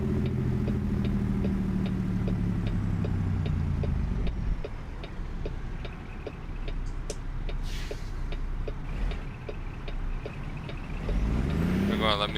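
A Peterbilt 389 truck with a 550 hp Cummins engine in American Truck Simulator runs with a steady, deep diesel drone and a constant rapid ticking. The engine note shifts midway and rises again near the end.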